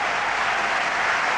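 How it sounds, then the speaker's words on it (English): A stadium crowd at a Brussels Diamond League meet roars and applauds as a runner races home in the 10,000 m, a dense, loud, continuous wall of cheering. "Racing home, the crowd are rising to him."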